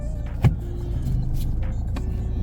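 Mercedes car driving after an ABS wheel speed sensor replacement, a steady low engine and road rumble running throughout with a couple of brief knocks, fairly close and without talk.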